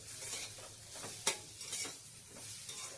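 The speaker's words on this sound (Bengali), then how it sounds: "অল্প অল্প করে জল দিয়ে আবার একটু নাড়িয়ে চাড়িয়ে নেব" Semolina halwa with egg is stirred in a pan as water is added bit by bit, a soft continuous sizzling hiss with a spatula scrape and light clinks, quiet and close.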